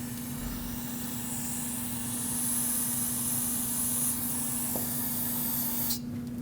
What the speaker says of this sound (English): Let's use some brake parts cleaner and rinse off our area.